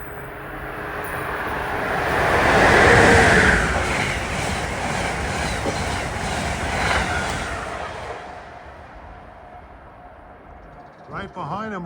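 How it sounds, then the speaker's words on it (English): Amtrak 148, a passenger train running from Washington to Springfield, approaches with a broad, loud rumble that swells to a peak early on, holds steady as it passes close by, then thins out toward the end. "approaching is Amtrak 148 en route from Washington to Springfield"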